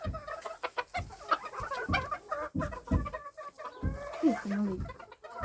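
Bantam roosters being chosen for breeding cluck and mutter close by in quick, uneven bursts, with a brief louder squawk near the end and no speech.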